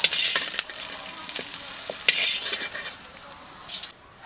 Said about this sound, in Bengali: এই তেলে দিয়েছি গোটা জিরে দিয়েছি দুটো তেজপাতা একটা শুকনো লঙ্কা